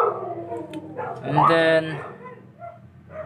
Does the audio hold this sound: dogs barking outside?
yes